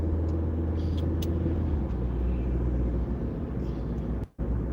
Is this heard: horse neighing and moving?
no